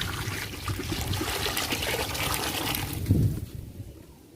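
Water is poured into a pot for chicken biryani, a continuous close splashing trickle that fades out near the end.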